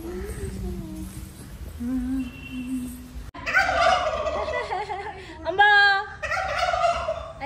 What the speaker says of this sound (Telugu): అవి పెద్ద పెద్ద కోడిలు ఎట్లా అరుస్తున్నాయి చూడు